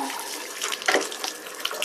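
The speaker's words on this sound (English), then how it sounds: "So, let me just take it and rinse it off." Tap water runs steadily over a makeup brush being rinsed under a faucet, with a close, continuous splashing hiss and a few brighter spatters near the middle.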